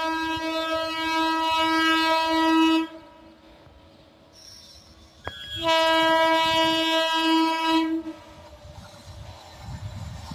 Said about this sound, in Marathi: कोल्हापूर गोंदिया महाराष्ट्र एक्सप्रेस आता येत आहे आणि या गाडीला लीड करतोय WAG9 लोकोमोटिव्ह